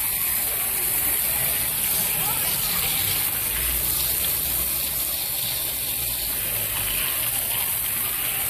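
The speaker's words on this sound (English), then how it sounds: "Simple method of just spraying out the dirt from it." Steady hissing spray of water gushing continuously as it blasts dirt out of an aquaponics filter, with a low rumble underneath and no pauses.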